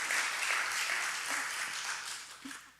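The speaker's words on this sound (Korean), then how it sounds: "하나님께 영광의 박수" Applause from a church congregation during a men's mission service following a baptism, a steady, fairly faint patter of clapping that holds for a few seconds with no talking over it.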